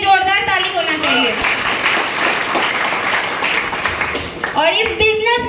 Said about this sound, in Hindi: मेरे गुरु मिस्टर रोशन मिश्रा सर के लिए जोरदार ताली होना चाहिए।